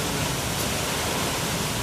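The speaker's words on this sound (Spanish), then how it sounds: "acá arribita la cascada del Jubilán." The Jubilán waterfall in Oña, Azuay, Ecuador gives a constant, dense roar of falling water, loud and close, with no voices or other sounds over it.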